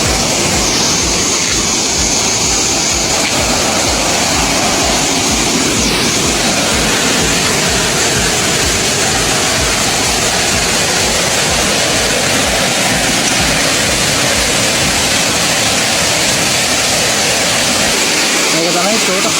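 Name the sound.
Thotas Ella waterfall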